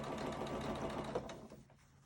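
A sewing machine stitches a fabric face mask with a filter pocket, a steady close mechanical whirring that slows and fades toward the end, with no one speaking.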